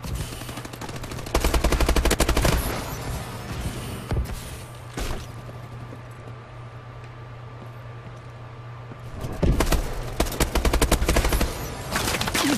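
Shotgun fire in the video game Call of Duty: Advanced Warfare, with rapid bursts of loud gunshots at the start and end and a quieter stretch between.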